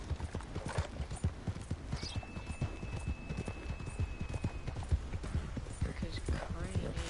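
Horse hooves clip-clop at a steady walking rhythm in the video game Red Dead Redemption 2, close and regular throughout, with a voice talking faintly underneath.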